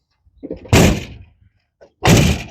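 Two doors on a 1975 Chevy Suburban with sagging, worn door hinge pins slam shut, each a loud thud, about a second apart, with faint handling noises between and no talk.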